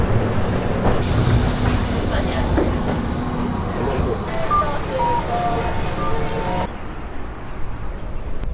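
Metro train ride in Hiroshima, Japan, with a steady loud rumble of the carriage and track noise throughout, a high whine through the early seconds and brief tonal beeps or chimes midway.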